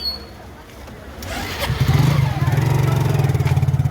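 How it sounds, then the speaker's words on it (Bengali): A motorbike engine comes up close and loud on a wet road in Digha, revving into a steady rhythmic throb as it goes by fast, with faint background noise before it arrives. "সত্যি এই বাইকগুলো এত তাড়াতাড়ি চলে"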